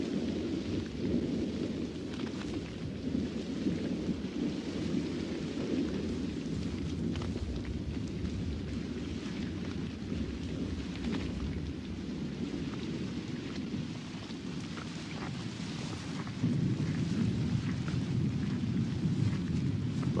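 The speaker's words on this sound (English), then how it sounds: "But even the lions are unnerved by the fierceness of this storm." A fierce thunderstorm on the African night savanna, with heavy rain pouring steadily and deep rolling thunder rumbling through, loud and continuous with no voices.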